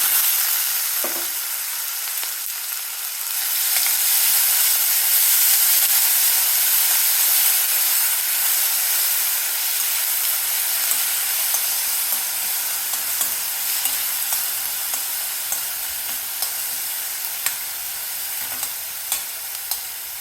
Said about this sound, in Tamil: கடுகு உளுத்தம் பருப்பு கருவேப்பில் பூண்டு வெங்காயம் இடித்து வச்சுருக்கேன் இந்த மாதிரி போட்டுக்கலாம்